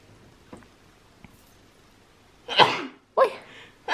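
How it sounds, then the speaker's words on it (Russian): A woman sneezes close by in a home after two faint ticks; three loud sneezes come in quick succession, the first sharp and full, the next two tight bursts with a brief breathy gap, no talk. "потому что чихает она по несколько раз."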